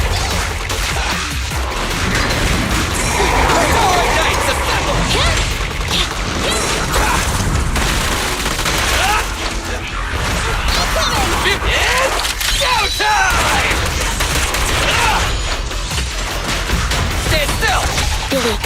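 Dense, continuous gunfire and explosions in the video game Zenless Zone Zero, loud layered combat noise with impacts throughout, under character voice lines.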